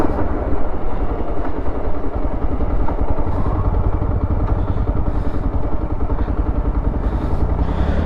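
A Yezdi Adventure motorcycle engine thrums steadily and loudly while riding at cruising pace, a dense low rumble with wind buffeting that holds without a break from start to end.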